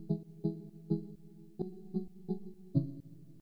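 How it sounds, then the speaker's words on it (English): Saw-based synth chords crushed through a bit crusher play in quiet, rhythmic plucky stabs with a gritty, lo-fi edge and faint high fizz, heard alone. "I took that same sound and I just distorted it with a bit crusher"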